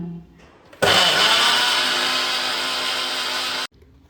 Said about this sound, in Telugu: సో ఇప్పుడు ఇది మిక్సీకి వేసేసుకుంటాము